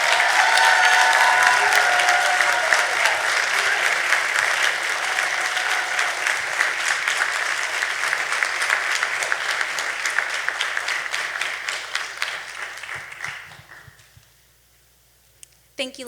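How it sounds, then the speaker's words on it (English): Sustained applause from an audience at an African fashion show, loud and dense at first with some cheering, gradually thinning and fading out near the end before a brief sound at the close. "Audience, let's give them a round of applause."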